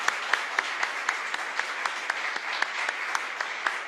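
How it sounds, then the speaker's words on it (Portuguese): An audience gives a round of applause in honour of Our Lady at a gathering of women. The clapping is steady and moderately loud, with sharp louder claps recurring in a fairly regular rhythm over a few seconds. "Salva de palmas para a mãe."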